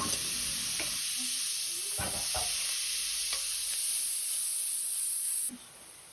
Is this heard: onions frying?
yes